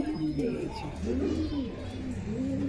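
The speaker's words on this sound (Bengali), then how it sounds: "মাদি কবুতর" Female pigeon cooing nearby in soft rolling low coos that repeat in a steady rhythm. Faint background noise sits beneath the calls.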